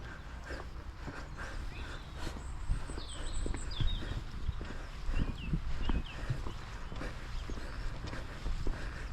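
Goats' hooves walking on hard pavement beside a canal, a soft, steady patter of many small clicking steps close by, with faint birdsong and a brief bark in the background.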